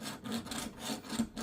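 Hand sanding on a wooden muzzleloader barrel part, heard as a close, quiet, steady rubbing rasp in short back-and-forth strokes with no talk.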